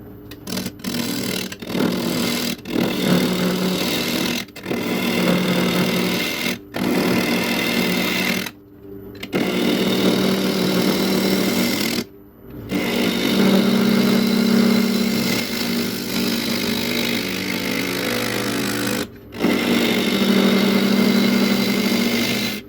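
A wood lathe spins an old apple wood bowl blank with a steady motor whine and hum, stopping and restarting several times with short silent gaps, loud and close.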